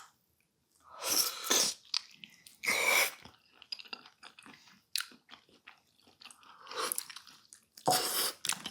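Someone chews Korean jokbal, boiled pork feet, close to the microphone, producing wet, crunchy bites in several bursts of mastication with short pauses and soft breathing between them.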